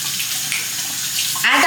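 Tap water runs steadily while sandy flip-flops are rinsed off on a Puerto Rico trip, a constant close wash that swells louder with a splashing burst near the end.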